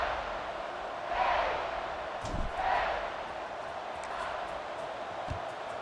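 A college football stadium crowd in EA Sports College Football 26, at a Miami playoff game, rumbles at a distance and swells into two louder surges, with a few dull thuds and no clear speech.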